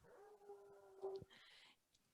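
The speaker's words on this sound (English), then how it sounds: "my dog was going off in the background there" A dog vocalising faintly in the background of a remote council meeting call, giving a short howling whine with a few yips.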